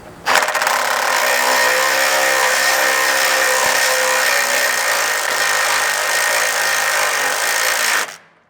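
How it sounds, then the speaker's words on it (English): A power tool with an extension drives a bolt into a 4th Gen 4Runner frame for a Strike rock slider, cutting new threads in one loud, steady whirring run of about eight seconds that stops abruptly. "you can drive it in and cut those new threads"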